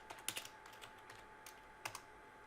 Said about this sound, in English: And then I can go ahead and start typing that.